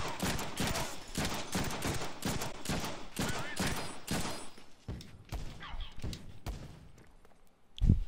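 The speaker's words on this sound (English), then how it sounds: "There we go, just shoot him." Gunfire in the Deadpool video game, rapid bursts of shots firing in quick succession with thuds, loud and close, tapering into scattered shots and a final heavy impact.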